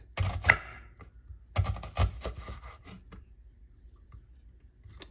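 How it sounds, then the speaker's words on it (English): A knife thinly slices a medium onion on a cutting board in a home kitchen, giving a few crisp, close chops in small bursts and then near silence. "thinly slice a medium onion"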